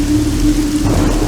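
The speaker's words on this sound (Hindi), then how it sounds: "इतनी बारिश क्यों हो रही है?" Heavy rain pouring in a dense, loud, steady wash with a low rumbling undertone, close and continuous with no voices.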